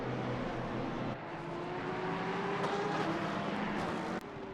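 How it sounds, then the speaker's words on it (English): Mixed racing car engines, including flat sixes, V12s, V8s and inline sixes, drone and whine continuously at a Red Bull Ring race, a steady loud roar with shifting pitch from several cars at once. "we hear flat sixes, V12s, V8s, inline sixes, and all myriad of engine types here"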